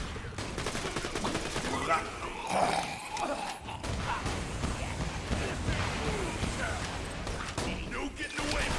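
Rapid enemy gunfire rattles from behind the player in Borderlands 2, with dense bursts of shots and impacts mixed with game effects and a player voice talking over the action.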